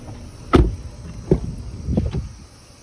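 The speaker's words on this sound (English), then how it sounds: "Power windows, locks," Power windows on a 2005 Chevrolet TrailBlazer whir and thump in three short motor bursts, each ending in a soft clunk, close and fairly clear inside the cabin.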